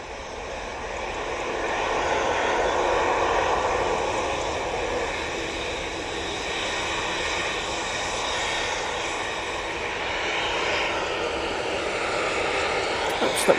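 An Emirates airliner passes over Manchester Airport with a sustained engine roar that swells and eases gently, moderately loud and unbroken.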